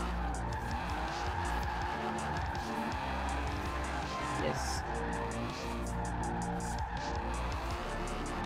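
Tires squeal and skid as a car drifts at speed in Forza Horizon 4, engine roaring underneath in a continuous, close, moderately loud stretch.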